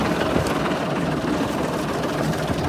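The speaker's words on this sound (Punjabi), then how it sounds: "ਅੱਛਾ ਬੰਦ ਕਰੋ ਭਾਈ ਯਾਰ ਟਰੈਕਟਰ" A modified tractor fitted with a six-cylinder harvester engine idles steadily close by, giving a continuous deep rumble with no speech over it.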